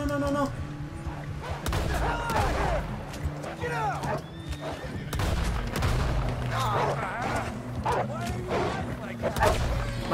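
Bursts of gunfire in Red Dead Redemption 2 mixed with horse whinnies and hoofbeats, busy and loud, while a person talks over the action in Spanish.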